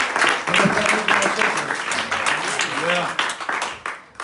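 A church congregation at a vigil service claps loudly and steadily, with voices and shouts mixed into the dense applause until it thins out near the end.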